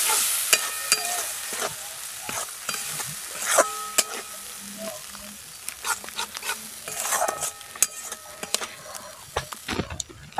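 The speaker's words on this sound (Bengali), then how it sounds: "এবার একসঙ্গে ভালো করে নাড়াচাড়া করে মশলাগুলো কষে নেব" A spatula stirs and scrapes spices with Kashmiri chili powder and a splash of water in a pan for a cabbage dish, giving irregular metallic clinks and scrapes over a soft, low sizzle, close and alone.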